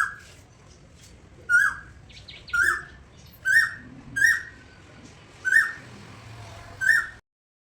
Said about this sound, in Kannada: ಇಲ್ಲೊಂದು ಕೋಗಿಲೆ ಕೂಗ್ತಾಯಿತ್ತು, ಎಷ್ಟು ಚೆನ್ನಾಗಿ ಕೂಗ್ತಾಯಿತ್ತು